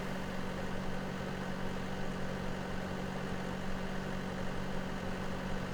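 A tractor engine idles in Farming Simulator 17 on the Lawfolds Aberdeenshire map, a steady low mechanical drone with a constant hum and no change in pace, no voices over it.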